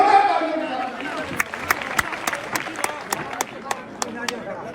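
Audience clapping at a village political rally in Malkheda, Haryana, starting under a fading voice. It turns into a series of sharp, separate claps in a steady rhythm, moderately loud against a quiet outdoor background.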